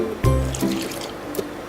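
Water is poured in small amounts into wheat flour for paratha dough, giving a brief near splash and trickle with a soft wet squish.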